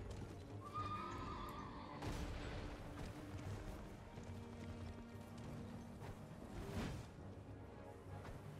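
An enemy knight's horse in Elden Ring whinnies shrilly near the start, then its hooves pound in rapid clip-clop under clashing combat noise that keeps up throughout.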